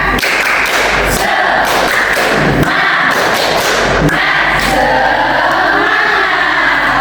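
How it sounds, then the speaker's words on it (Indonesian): A class of schoolchildren does rhythmic spirit clapping in a classroom, loud sharp claps in quick patterned bursts with some shouting voices between them. "Lagi, tepuk semangat."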